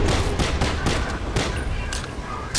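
Loud, rapid volleys of gunfire burst close by in uneven clusters in the Call of Duty: Black Ops "Numbers" mission, sharp cracks over a dense, noisy background.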